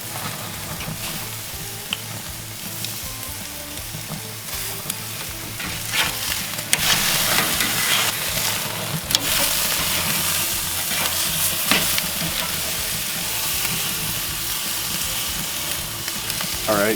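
Steaks sizzling loudly on a grill with melting butter, a dense continuous fry with crackling bursts as they are flipped and basted, close and steady without talk.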